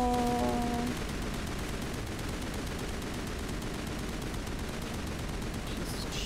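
Rapid, continuous gunfire from a Mass Effect firefight, dense bursts of shots rattling on for several seconds, with a brief tonal in-game sound at the start.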